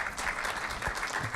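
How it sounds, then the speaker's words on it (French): Steady applause from a conference audience fills the whole moment, dense and even, at a Moroccan development-model debate. "Sous vos applaudissements, s'il vous plaît"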